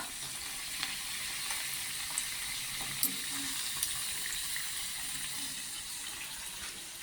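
Non-veg samosa frying gently in hot oil over a low flame, a steady close hiss of bubbling with small crackles and pops, no talking.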